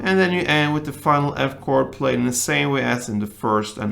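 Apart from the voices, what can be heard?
No distinct noise like a dog, phone or traffic.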